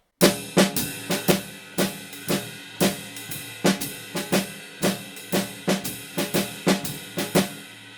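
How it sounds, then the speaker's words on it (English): A drum kit plays a steady ride cymbal pattern with syncopated accents, crisp repeated strokes over light kick and snare hits, close and alone. "We're going to play the ride cymbal pattern."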